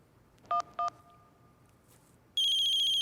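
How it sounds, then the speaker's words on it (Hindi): A telephone in a Hindi TV comedy scene gives two short electronic tones, then after a pause breaks into a loud, steady ringtone, with the room otherwise quiet. "अबे फोन बज रहा है"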